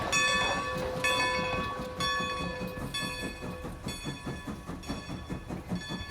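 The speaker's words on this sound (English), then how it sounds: "Here comes the number train." Toy-like train sound effect from a children's number-counting song: repeated horn or whistle toots over a steady, rhythmic clickety-clack of wheels, loud and continuous with no voices.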